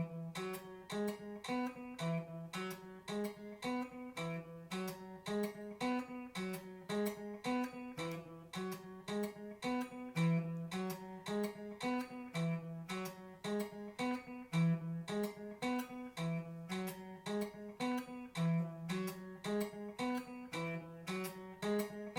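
Fingerpicked patterns move across strings 8, 7, 6 and 5 of an extended-range guitar, an even, steady stream of plucked notes at a metronome pace of 110, faint and alone for over twenty seconds.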